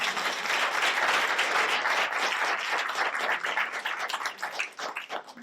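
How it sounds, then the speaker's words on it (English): A crowd at an introduction event claps loudly and continuously, the dense applause holding strong before thinning and tapering off toward the end. "let's give Dina a round of applause"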